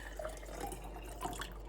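Water is poured into a small travel electric kettle as a quiet, continuous trickle with faint splashes, lasting under two seconds in a hushed indoor setting with no talking.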